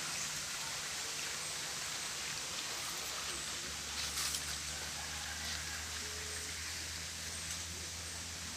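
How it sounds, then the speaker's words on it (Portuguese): A small stream on a rural farm property runs steadily as a continuous broadband rush, even and close, with a low hum underneath and no voices. "Aqui o riacho."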